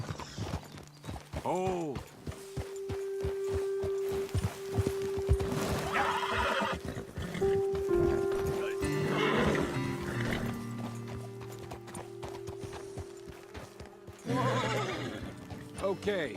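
Horses in Red Dead Redemption 2 trotting with clip-clopping hooves and neighing loudly several times, a whinny near the start and others later, with game music and a brief spoken exclamation.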